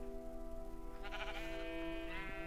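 Minecraft sheep in the Hexxit modpack bleat in a clear, close, wavering call that repeats twice within a couple of seconds over a steady droning background tone.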